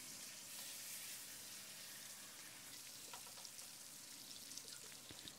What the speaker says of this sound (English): Then add the herring fish into the pot and let them sizzle and fry on